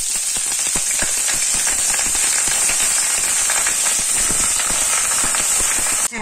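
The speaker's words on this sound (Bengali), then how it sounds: "নিম পাতাটা ভাজা হয়ে গেছে" Neem leaves frying in hot oil in a pan on a gas stove, a dense, steady crackle and sizzle with rapid popping that stays loud and even throughout, no talking.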